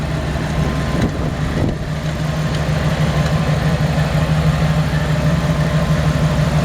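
A 1969 Dodge D100 truck engine idles close by with a steady, even low rumble and no speech.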